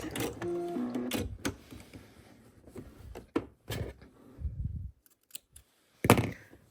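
A sewing machine runs in short bursts while back stitching on a potholder, followed by a quick snip of thread being cut, close up with brief pauses between actions.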